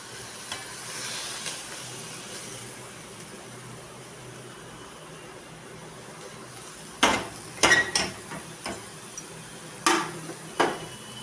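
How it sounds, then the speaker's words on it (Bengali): Half-fried onions tipped into a pan of soybean chunks, a steady sizzle of frying throughout, then several sharp clanks of a utensil scraping and knocking against the pan near the end. "পেঁয়াজটা বেশ আধ ভাজা মতো হয়ে গেছে এবার এটাকে ঢেলে দেবো আমি"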